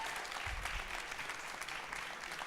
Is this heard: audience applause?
yes